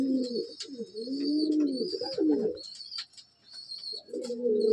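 A pigeon coos close and clearly in long, throaty, wavering phrases, pausing briefly before starting again, over faint high chirping in the background.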